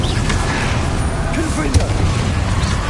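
An Incendio fire spell cast in the Hogwarts Legacy video game, a rumbling whoosh and booming blast amid continuous combat noise, with a player's voice shouting spell names over the fight.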